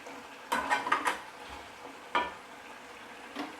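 Spiced yogurt chicken stirred in a pan, a spoon scraping and knocking against the metal in a few quick clustered strokes, then single scrapes over a low sizzle.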